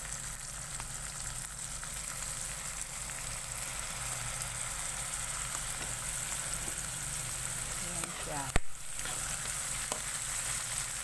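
Dried salted fish fries in a pan with pepper and bay leaf, a steady quiet sizzle running throughout, broken once by a brief clatter near the end.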